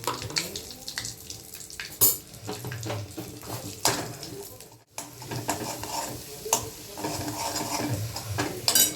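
Mustard seeds and cumin sizzle and crackle in hot oil while tempering for garlic kadhi, a steady frying hiss with scattered pops and a few sharp clatters, fairly close.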